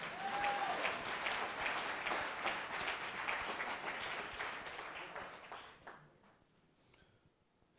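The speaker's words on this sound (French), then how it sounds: "Si vous m'applaudissez aussi, c'est parce que vous savez que le Saint-Esprit a fait un dépôt de connaissances à mon niveau" Church congregation applauding at a French-language religious gathering, a dense sustained wash of many hands clapping that carries on loudly for about six seconds before thinning and fading out near the end.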